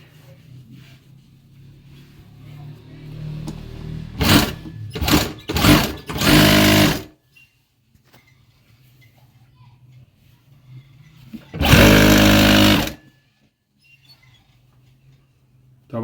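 A servo-motor sewing machine stitches a regular straight seam in short bursts: three quick runs close together, then a longer continuous run after a pause, with quiet room tone between.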